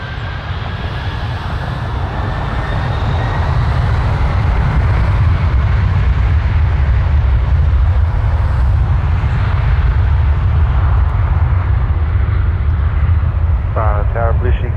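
A plane taking off at Toronto Pearson airport produces a steady, loud jet roar and low rumble across the whole stretch, with air traffic control radio talk running over it.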